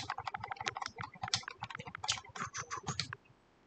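Fast typing on a keyboard, a close, quick run of clicking keystrokes for about three seconds before stopping, with no one talking.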